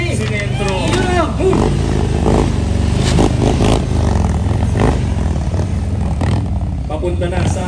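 A Harley-Davidson Road Glide motorcycle rumbles at low speed across a narrow bridge obstacle in a regional skills challenge, its engine a steady throaty drone under crowd chatter and talking spectators.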